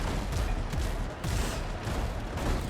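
Ship cannons fire in a naval battle in the video game Windrose, a rapid string of heavy booms and cracks rolling one after another, loud and dense over a roaring battle backdrop with no pauses.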